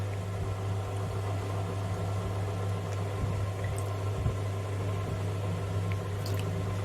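A mango being washed by hand in water, with soft sloshing and splashing over a steady low hum that runs the whole time.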